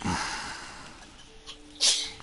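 A single sharp sneeze bursts out near the end, loud and close, after a brief breathy snort at the start over quiet background hum.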